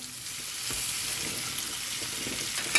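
Chayote (chow chow) stir-fry sizzling in a pan, a continuous close frying hiss with light scraping from stirring and a small clack at the end, without any talking.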